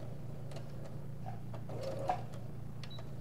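Home sewing machine running a short back stitch, quiet rhythmic mechanical ticking and whirring bursts over a low steady hum.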